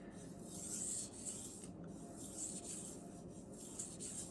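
A Messermeister Meridian Elite knife is drawn with light pressure across a sharpening stone to flip the burr, giving a steady, continuous scraping rasp with soft repeated strokes, close and alone.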